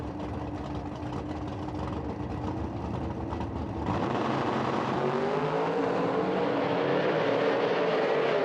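Nitro drag race cars at an IHRA Outlaw Nitro Series event roar loudly and continuously, the engine noise rising and sweeping upward in pitch as the cars accelerate down the strip, with no talk over it.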